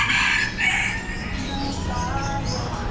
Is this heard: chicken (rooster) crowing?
yes